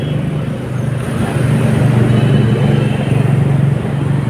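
Fast road traffic rushes past near an electric trike, a close, continuous rumble of passing vehicles that swells in the middle and then eases slightly, with no talk.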